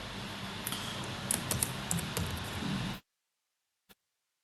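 Keys clatter rapidly on a computer keyboard as text is typed into a file, a close, dense run of clicks lasting about three seconds before stopping abruptly, followed by near silence and one faint tick.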